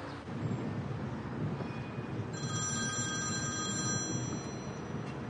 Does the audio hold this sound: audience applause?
no